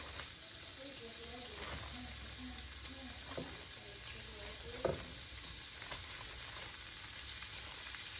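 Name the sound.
shrimp frying in a pan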